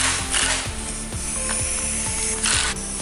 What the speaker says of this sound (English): now of course you have to use the impact again to get it tight